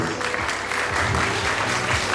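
An audience at a food tasting challenge show claps in applause, a steady, fairly loud patter of many hands, with a low voice faintly underneath.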